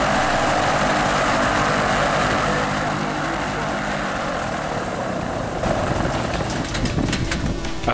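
A light propeller aircraft lands in the Atlas region, its engine drone loud and constant with a propeller buzz, shifting slightly toward the end as it touches down amid wind noise; voices come through faintly.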